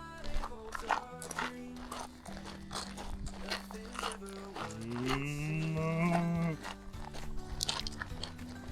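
A cow lets out a drawn-out moo of rising and falling pitch outdoors on a hiking trail, heard clearly among nearby chatter and rustling.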